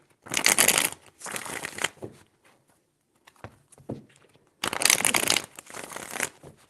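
Shuffling cards in two long, brisk bursts separated by a quieter gap with a few soft taps, close and fairly loud.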